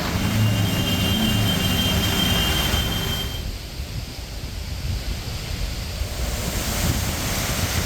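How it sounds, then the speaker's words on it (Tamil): A strong wind roars steadily through the whole stretch with a dense rush like heavy rain, loud and unbroken, as Cyclone Fengal strikes Puducherry; the roar eases slightly partway through. "பலத்த காற்றுடன் வெளுத்து வாங்கிய கனமழை."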